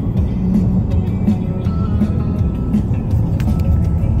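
A car drives along with a steady, loud low rumble of road and engine noise filling the interior throughout, without talking.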